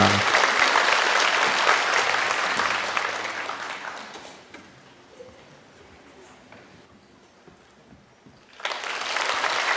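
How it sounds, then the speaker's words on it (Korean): Church congregation clapping to bless a baby during a Sunday service: several seconds of dense, loud applause that fades out, a quieter stretch with faint speech, then clapping swells again near the end. "우리 박수로 이 아이를 축복합니다."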